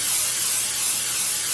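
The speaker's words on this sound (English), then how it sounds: "I'm just going to use my olive oil spray instead of actual olive oil" Olive oil cooking spray hisses steadily into a pan from close range, a continuous broadband spray lasting the whole moment with no pauses or talk over it.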